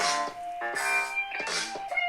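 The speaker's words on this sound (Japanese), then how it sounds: "これギターの音ですよ。" Bright, twangy guitar notes ring out in short phrases with sliding, bending pitches and sustained tails, no voices present.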